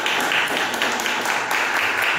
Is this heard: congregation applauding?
yes